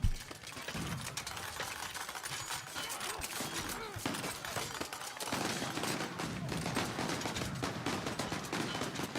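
Massed musket volleys and scattered shots crackle continuously from armies in a very hard Palatinate battle at Rossbach in a strategy video game, loud and dense throughout with no voice.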